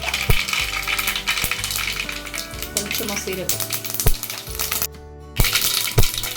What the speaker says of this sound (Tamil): கடுகு பொரிஞ்சிடுச்சு